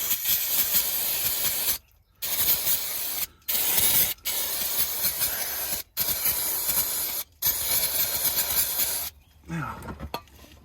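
Aerosol spray hisses in bursts from a can during an oil and filter service on a Renault Fluence 1.5 dCi, several long close sprays separated by brief pauses.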